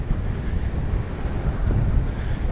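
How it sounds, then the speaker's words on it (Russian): Strong, gusty wind buffets the microphone with steady low rumbling and rough fluctuating roar, loud and continuous, while rain clouds approach on a road near Tulun. "Ветер прямо такой шальной оттуда дует."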